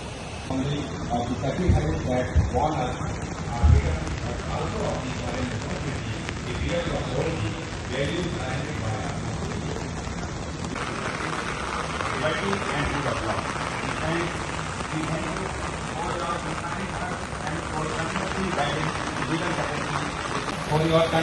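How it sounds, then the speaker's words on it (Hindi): Heavy rain pours in a steady, dense hiss throughout while people talk over it, outdoors at the Supreme Court of India on Independence Day. "गाइस बहुत बारिश हो रही है और हम लोग यहाँ पे भीग चुके हैं"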